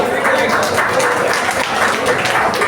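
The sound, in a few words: applause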